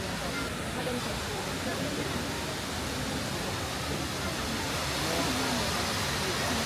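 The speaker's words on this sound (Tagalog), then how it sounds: "Oh, there's the waterfall." A waterfall in Taiwan gives a steady, close rushing roar of falling water that holds even and continuous throughout, with no clear breaks.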